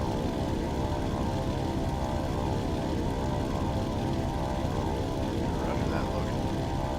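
A WWII fighter plane's engine drones steadily as it climbs toward altitude in WWII Online, a constant loud propeller roar with no break throughout.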